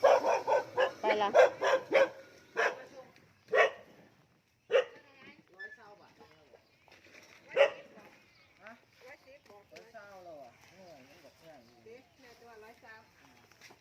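A dog barks repeatedly nearby in a fast burst of sharp barks, then more sporadically, while a person talks over the later part.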